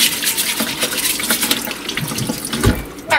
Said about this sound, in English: And you just take a brush and you just want to make sure you get all the dirt off of them.